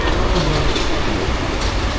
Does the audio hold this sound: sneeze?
no